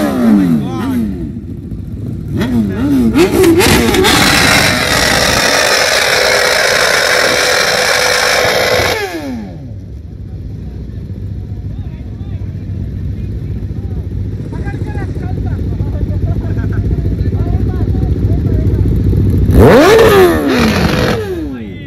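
A Kawasaki ZX-10R sport motorcycle revs hard nearby, rising and falling throttle sweeps at the start and again near the end, with a lower steady engine rumble and talk in between.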